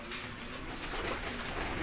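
Racing pigeons coo inside a loft, with soft, repeated throaty calls close by over a faint background hum.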